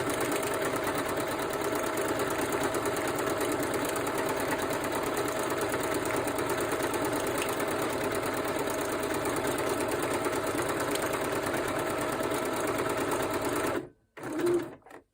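Sewing machine stitching a decorative pattern on paper ephemera, a steady fast mechanical hum and needle chatter running continuously and close, ending in a brief stop and restart.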